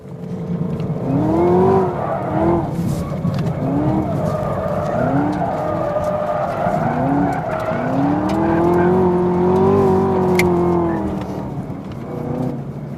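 A Shelby GT350R sports car accelerates around a tight racetrack, its engine note rising and falling through repeated revs and gear changes with tire squeal, loud and steady throughout.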